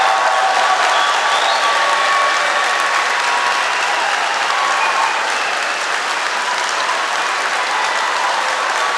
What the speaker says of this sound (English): I want to ask every family member and every staff member and every friend to applaud again